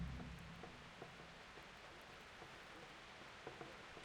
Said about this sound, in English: Is it still raining? Yep.